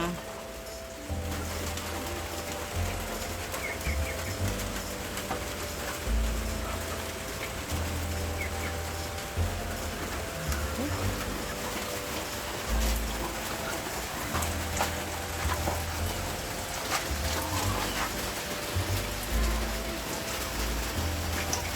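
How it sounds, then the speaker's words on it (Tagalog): Heavy rain pours steadily over a muddy farmyard, a dense, even hiss throughout, while low pigeon or dove coos repeat in the background. "napakaputik dito ngayon dahil wala nang sawa ang pagbuhos ng ulan"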